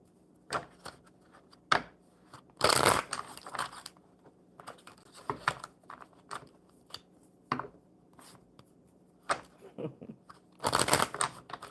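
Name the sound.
shuffling a deck of cards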